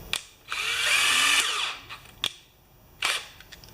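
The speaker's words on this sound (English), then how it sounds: "Those big old Kawasaki drills are nice for stuff like that." A big Kawasaki power drill whirs for about a second while unchucking a part from a Honda HRA214 lawn mower, then gives short spin bursts and clicks, close and alone without talk.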